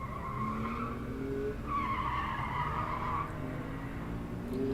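A Subaru at an autocross event, its tires squealing in long wavering skids over a constant engine drone, loud and close for several seconds.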